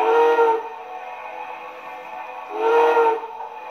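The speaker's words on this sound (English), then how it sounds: "now I'll blow the whistle and we can hear what that sounds like" Two blasts of a steam whistle sound from an MTH model train engine, close and loud, with a steady hissing steam tone running between the louder whistle bursts.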